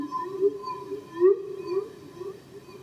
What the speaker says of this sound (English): we can do self-oscillating, very cool whale noises